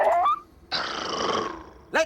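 Sled dogs in a film snarling in a sustained growl lasting about a second, close and loud, framed by brief shouted voices on either side.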